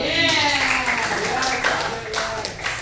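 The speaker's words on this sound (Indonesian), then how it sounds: "Tepuk tangan untuk Harna." Students in a classroom clap for a classmate, a ragged burst of handclaps close by and continuing throughout, with a voice talking over it.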